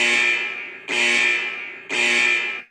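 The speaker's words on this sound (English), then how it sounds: "It's the bullshit alarm. That's the bullshit alarm." A bullshit alarm sound effect played on a podcast, three loud harsh buzzer blasts of about one second each in steady succession, heard alone.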